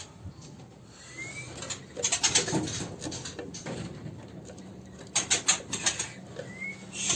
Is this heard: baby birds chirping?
yes